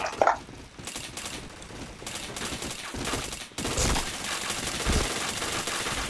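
Rapid automatic gunfire in a shooter video game comes in uneven bursts, with sharp rattling volleys rising and falling against other game sounds. No one speaks.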